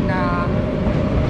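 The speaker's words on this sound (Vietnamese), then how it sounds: "mình đang ở trạm xe lửa Haarlem" Train at Haarlem railway station: a loud, steady rumble of a train running nearby with a continuous metallic whine layered over it, filling the whole short moment.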